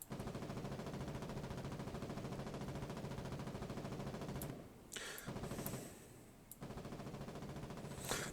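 Sustained automatic gunfire in the war game Foxhole, a dense rapid stream of shots that breaks off briefly twice and then resumes, loud and steady with no talking.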